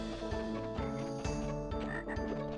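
Frog croaks from the Crash Bandicoot 3 prototype video game, a string of repeated low croaking pulses over busy game music, steady and fairly loud throughout.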